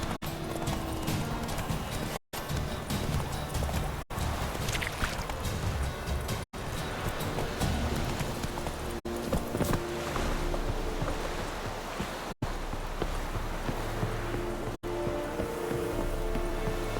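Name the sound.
horse hooves clip-clopping while riding, from video game The Witcher 3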